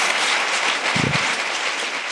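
Applause from a youth sabha audience, a thick, continuous wash of clapping hands held at a steady level, with a brief low thump near the middle.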